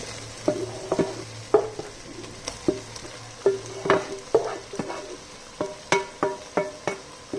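Chicken filling stirred into a frying dressing of garlic and ají panca, a soft continuous sizzle broken by repeated scraping clacks of a spoon against the pan, close and steady, with no talk.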